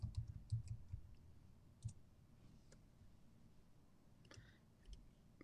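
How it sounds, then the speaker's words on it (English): Someone types on a keyboard, giving faint, close clicks in a quick irregular cluster and then scattered taps after it, in a quiet room. "Because I just typed in Shasta Mario."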